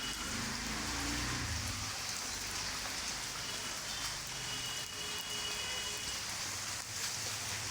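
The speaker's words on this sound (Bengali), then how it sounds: "আমাদের বাড়ির সামনে বৃষ্টিতে কি হয়েছে কি অবস্থা" Steady rain falls outside a house, a dense, even hiss of drops on surfaces heard at a moderate distance with no voices over it.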